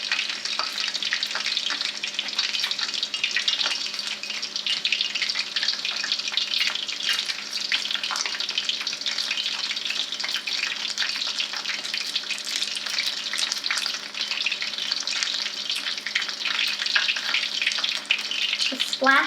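Vietnamese egg rolls fry in a pan of hot oil, giving a steady, dense sizzle with small crackles and spits of splashing oil throughout, close up.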